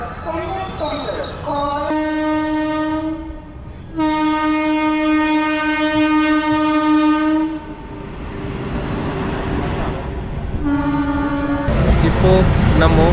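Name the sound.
train entering Perambur railway station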